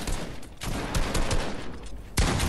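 Rapid bursts of gunfire from a Fortnite match crack out in quick succession, a flurry of sharp shots followed by a louder blast near the end.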